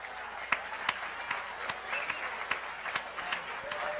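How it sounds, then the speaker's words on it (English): An audience claps steadily, a moderate spread of applause with a few sharper individual claps standing out, heard at some distance throughout. "People clapping for this, man."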